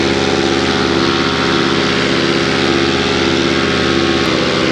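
A paramotor engine runs at high power during takeoff, a loud, steady buzzing propeller drone that continues unbroken and close throughout.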